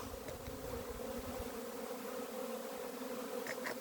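Honeybees at an apiary, buzzing in a steady, dense, low hum around the hives after prolonged rain, moderately distant and fairly faint, with no talking.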